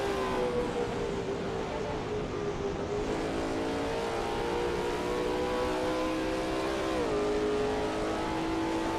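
Lola T70 MkII Spyder race car in a racing video game at Road America, its engine holding a loud, steady high drone with shifting pitch and a brief dip around the seventh second, continuous and close.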